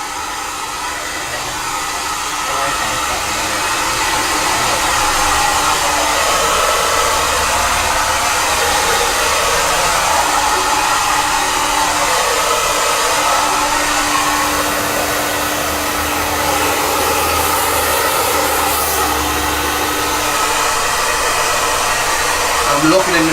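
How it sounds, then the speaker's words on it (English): A loud hair dryer blows continuously at close range, a steady roaring rush of air that holds at an even level throughout. "I'm blowing the air on the crown to smoothen it out."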